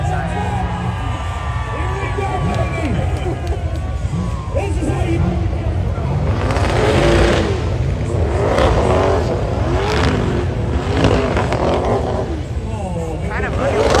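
Two twin-turbo LS-powered cars racing side by side at an LS Fest event, a loud sustained engine roar with revving over a noisy crowd, and people talk throughout.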